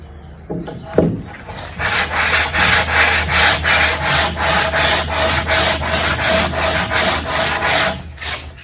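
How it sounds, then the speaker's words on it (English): Steady back-and-forth sanding strokes rasp against the transom edge of a 1973 Aquasport 222 boat in a regular rhythm, close and fairly loud, after a couple of brief knocks. "it's sanding the edge right here"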